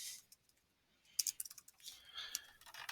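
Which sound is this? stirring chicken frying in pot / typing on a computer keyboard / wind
typing on a computer keyboard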